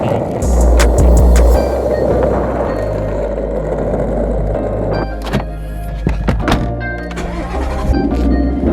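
A Ford Mustang engine fires up and runs with a steady low rumble, close and loud, with a few thunks and clicks from the car partway through.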